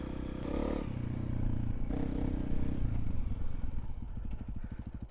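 Motorcycle engine running nearby with scraping and clattering, the motor steady and then pulsing in a rapid putter toward the end, no voices.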